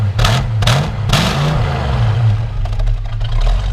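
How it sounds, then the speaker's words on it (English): A 1965 Ford Mustang GT with its GT exhaust revs up several times from idle, loud and close, the exhaust burbling and rising between short throttle blips before settling back to a rumbling idle. "I love the GT exhaust, the sound of it. Go ahead and rev it up a little bit."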